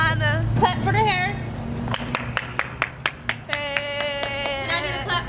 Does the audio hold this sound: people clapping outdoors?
yes